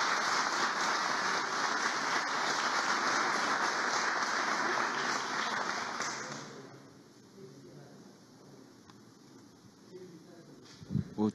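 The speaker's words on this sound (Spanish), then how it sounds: "El aplauso para ustedes." An award ceremony audience gives steady, dense applause for about six seconds, then it fades quickly into a quiet room with a few scattered sounds near the end.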